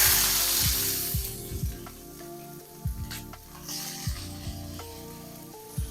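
Onions frying in a pan over low heat for Philly cheesesteak, a steady close sizzle with scattered pops and spatters, punctuated by a few low thumps and knocks from the pan and utensils.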